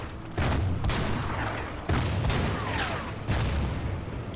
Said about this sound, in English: we have some artillery. Let's bring that in then.